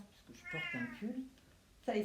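A pet cat named Nemo, nearly 17 years old, gives a few close meows at home, mixed in with a woman's speech.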